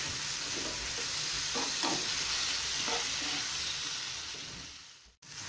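Leeks in oil sizzle loudly in a pan while being stirred, with a few scraping strokes of the spoon partway through and a brief dip in the noise near the end.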